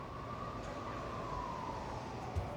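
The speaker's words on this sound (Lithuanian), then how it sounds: "Aš girdžiu tą policiją ligoninę." A police or ambulance siren wails faintly in the distance during a fire, one long drawn-out tone over a low, steady background rumble.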